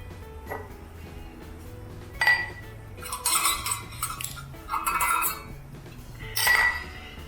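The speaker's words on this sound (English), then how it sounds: "We got the bowl of my stand mixer." A stand mixer bowl handled on a kitchen counter, giving a few scattered clinks and clunks, then clusters of rattling metal-and-glass knocks, close and fairly loud against a quiet room with a low hum.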